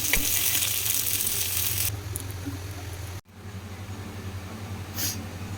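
Fish shallow-frying in a pan gives a steady crackling sizzle that drops in intensity about two seconds in, breaks off briefly near the three-second mark, then resumes softer with a short bright hiss near the end.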